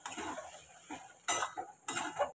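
Roasted ground cumin, coriander and dry chilli powder being mixed into a stuffing, with three short bursts of close scraping and stirring separated by brief pauses, fairly quiet.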